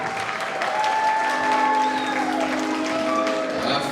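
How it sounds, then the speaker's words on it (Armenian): Wedding guests applaud the couple, a dense, steady round of clapping from a crowd that holds evenly for a few seconds. "բարձր ծափեր հնչի մեր գեղեցիկ զույգի պատվի"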